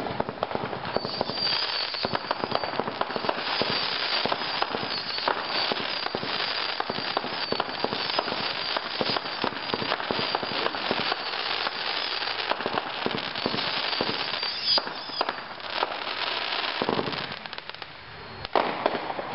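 Brothers Air Boss 37-shot fireworks cake firing a continuous barrage of crackling bursts and pops for nearly twenty seconds, dense and steady with a brief lull near the end before final shots.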